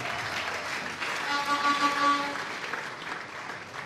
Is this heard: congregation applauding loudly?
yes